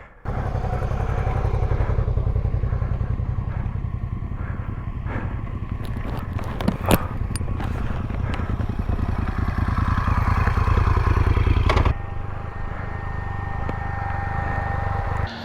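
Motorcycle engines rumble continuously nearby, with a few clattering thumps partway through and a brief drop in the engine noise near the end.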